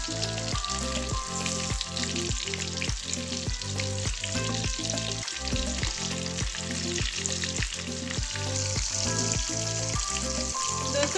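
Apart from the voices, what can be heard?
chicken pakoda frying in oil, being flipped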